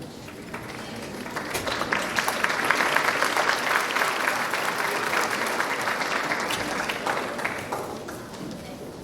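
Audience applause at a middle school moving-up ceremony, loud sustained clapping from a large crowd that swells and holds for several seconds before slowly tapering off.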